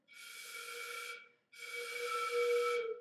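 A flute blown with lips held too tight gives two sustained, airy, hissing breaths, each about a second long with a faint pitched whistle inside and a short gap between, close and fairly quiet.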